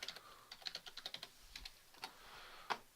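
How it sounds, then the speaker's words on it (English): Fingers typing on a computer keyboard, a run of light, irregular clicks with brief pauses, close and fairly quiet, with no voices. "I'm going to type in player location"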